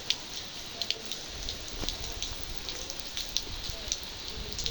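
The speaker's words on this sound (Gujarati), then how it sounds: "પાછળ બહુ વરસાદ પડે છે." Heavy rain falls outdoors in a steady, fairly soft wash of patter, with scattered sharper drop taps landing close by.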